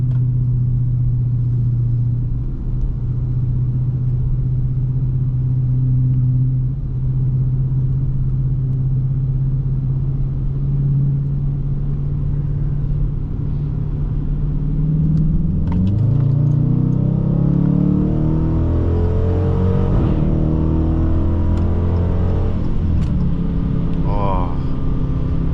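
Dodge Challenger RT accelerating on the road, a deep steady engine rumble that rises in pitch partway through as the car pulls, heard from inside the cabin with someone talking over it.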